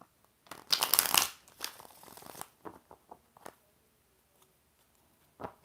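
Tarot cards riffle in a loud burst near the start, followed by a scatter of lighter flicks and taps that fade toward quiet, with one more brief rustle at the end.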